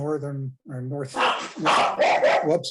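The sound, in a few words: dog barking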